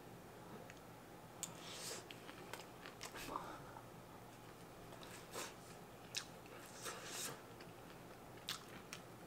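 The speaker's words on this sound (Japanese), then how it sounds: "お好み焼きチャーハン実食します。" Someone eats okonomiyaki-style fried rice made with takoyaki, giving soft irregular bites and chewing with occasional crisp crunches, close and fairly quiet over a steady low background hum.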